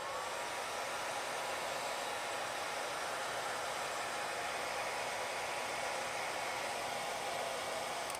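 Hair dryer heating an IQOS 3 skin while it is applied, giving a steady, uniform airy roar that runs without change from start to finish.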